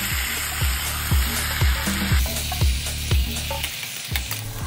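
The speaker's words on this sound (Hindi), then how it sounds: "तब हम लोग मैरिनेट किया हुआ चिकन कढ़ाई में डाल देंगे। सब कुछ अच्छे से एक बार मिला देंगे।" Marinated chicken sizzling and frying in a kadhai, stirred with a series of regular scraping strokes that land roughly every half second over a steady loud hiss, with no talking.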